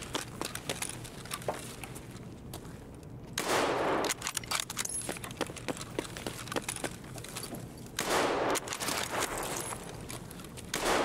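Scattered pistol gunfire in Escape from Tarkov crackles from the far side of the map, sharp single shots and quick exchanges over a steady ambient bed, with two louder sustained noisy bursts standing out; no one talks.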